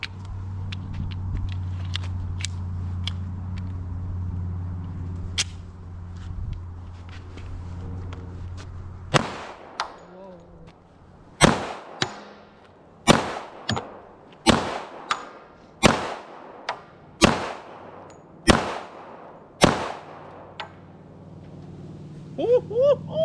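A Kimber 1911 Custom II LW Nightstar pistol fires about nine loud, sharp shots at a steady, slightly uneven pace outdoors, after a stretch of idling background rumble, with faint clinks following the last shots.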